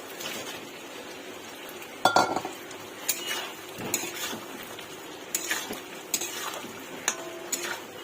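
Potatoes being stirred into well-fried masala in a pan for vegetarian aloo dum: scattered scraping and clinking strokes of a spoon against the metal pan, with a faint sizzle underneath and no talking.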